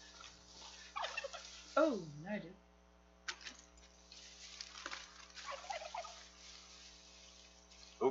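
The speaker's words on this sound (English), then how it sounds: "Oh, there's turkeys." Turkeys gobble in the Far Cry 5 video game, several warbling calls in short bursts rising over game noise while people talk.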